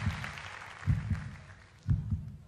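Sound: heartbeat sound effect

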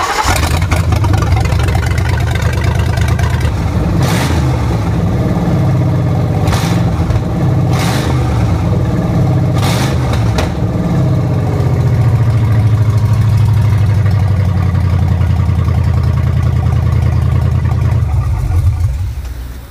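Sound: Crown Victoria police interceptor engine starting and idling

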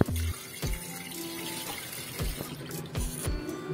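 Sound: running tap water washing pork ribs

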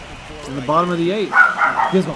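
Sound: dog barking

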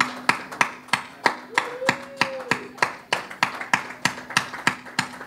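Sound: audience applause at an art reveal

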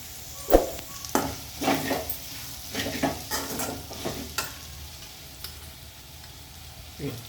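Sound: gongura leaves frying and being stirred in a pan

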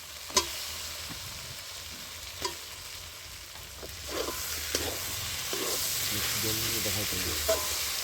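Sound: stirring chicken curry after adding tomato

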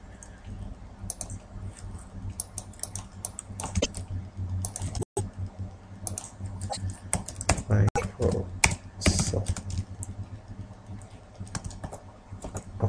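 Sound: typing on a computer keyboard

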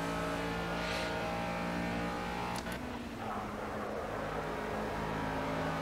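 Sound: race car engine in the video game Project Cars

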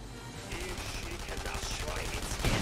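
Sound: gunfire from The Saboteur video game

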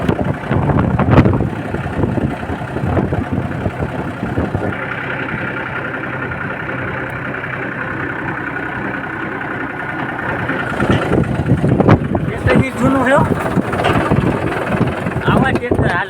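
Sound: old tractor engine running

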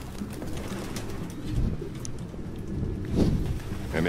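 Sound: pigeons cooing in Detroit: Become Human video game

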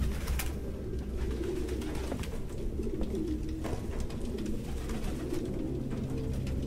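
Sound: pigeons cooing in video game Detroit Become Human

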